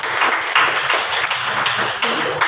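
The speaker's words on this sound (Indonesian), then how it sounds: "Oke, bagus sekali, tepuk tangan untuk Mutia." Students in a junior high Indonesian-language classroom clap for a classmate, a short burst of moderately loud, irregular hand claps with no talking.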